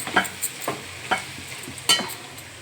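Chili powder frying in a pan for a raw cashew nut curry, with a low steady sizzle under several sharp spoon scrapes and stirring strokes spaced irregularly, close by.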